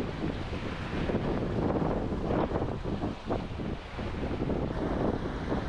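Ocean waves rushing past a sailing boat off Tenerife, a continuous loud wash of surf mixed with buffeting wind on the microphone, no voices.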